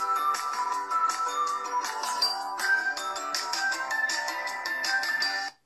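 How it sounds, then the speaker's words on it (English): Royalty-free music beats play through the small built-in speaker of a Moto G5s Plus phone held up close, a bright tinny tune with steady rhythmic hits running continuously before cutting off abruptly. "we'll go in here and play some royalty-free beats"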